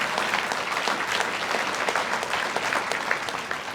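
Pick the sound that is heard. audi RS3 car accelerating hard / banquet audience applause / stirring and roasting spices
banquet audience applause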